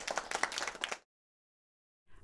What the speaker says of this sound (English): You may clap for them.